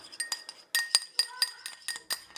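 A spoon clinks against a small bowl while stirring a mixture with paprika, quick bright taps in irregular bursts, close and fairly crisp, with no voice over them.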